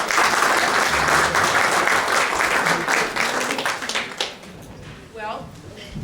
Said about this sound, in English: For Mary Rose, a little clap of love.